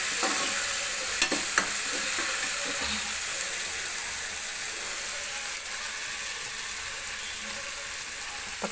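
Onions sautéing with ginger garlic paste for a country chicken curry give a steady close sizzle, with a few sharp clinks and scrapes of a spatula against the pan early on.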